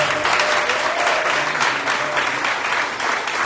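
A church congregation applauds during a Portuguese-language celebration service, a dense, loud, sustained wash of clapping from many hands filling the room throughout, with no talk.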